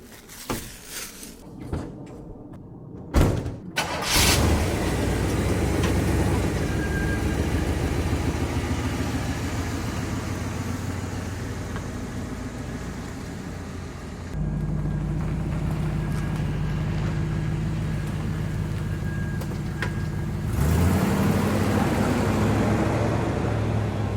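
An old GM G-body car that sat for 22 years clunks, then its engine starts and settles into a steady, fast high idle, with a brief rise in revs near the end.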